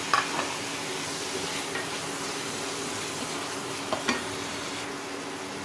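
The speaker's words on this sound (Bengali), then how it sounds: "আমার চিংড়ি মাছটা ভালো করে কষানো হয়ে গেছে।" Prawns frying in a pan for a bhuna with taro stolons sizzle steadily at moderate volume, with a few soft scrapes and knocks as they are stirred.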